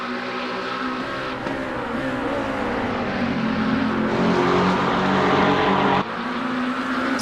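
Supercar engine from iRacing, the Barbagallo 888 car, droning steadily and loud through the whole stretch with rising and falling pitch as it accelerates, a brief gear-change dip near the end.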